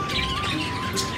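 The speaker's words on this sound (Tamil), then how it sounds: "இது பறவைங்க" Birds squawk around an old British-era house nearly 300 years old, a brief harsh call over an outdoor background.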